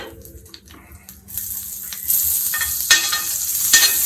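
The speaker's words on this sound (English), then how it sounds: "So now to the pan, I'm going to reduce the heat. And I'm going to put in 2 tablespoons of butter." Butter sizzles and fries in a pan over reduced heat before salmon goes in, a steady hiss that swells louder after the first second with occasional stirring clinks and scrapes, no talking.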